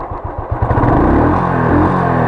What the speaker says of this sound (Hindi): तो देखा दोस्तों हमने बाइक बिल्कुल परफेक्ट चल रही है